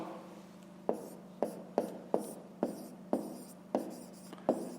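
Pen or pencil writing maths on paper for a fifth-grade exercise, a series of about eight short, scratchy strokes at a steady rhythm, close and fairly quiet over a low constant hum.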